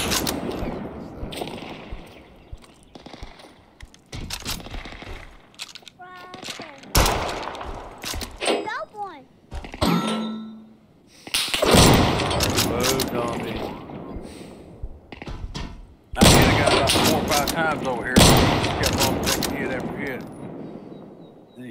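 Gunfire in the survival shooter Deadside, with bursts of shots and mechanical clatter scattered across the scene amid other game sounds, while players talk over the action.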